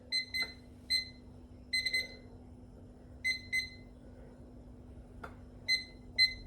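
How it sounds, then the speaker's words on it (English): Kitchen timer chirping in short, crisp electronic beep bursts, repeated in irregular clusters over a quiet room with a faint steady hum. "And where's my timer?"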